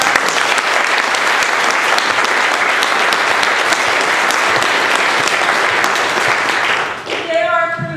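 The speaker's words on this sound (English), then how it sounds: "give a round of applause again for Ashley and for Rachel" Loud, sustained applause from a crowd at a town hall meeting on the heroin epidemic, dense steady clapping that tapers off near the end as a voice begins speaking.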